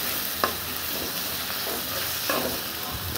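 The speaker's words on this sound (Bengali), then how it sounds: "এভাবে কিছুক্ষণ নেড়ে চেড়ে ভাজা ভাজা করবো, পরে নামিয়ে নেব।" Coconut and water lily stems fry in a pan with a steady, close sizzle, broken by a few sharp scrapes and clatters as the mixture is stirred.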